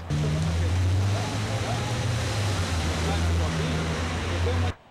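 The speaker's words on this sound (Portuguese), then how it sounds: "cenas assim, de carros passando em poças de água" Cars drive through a flooded street in Vitória, throwing up a continuous loud wash of water spray and tyre hiss over a steady low engine rumble, sustained for several seconds before cutting off abruptly.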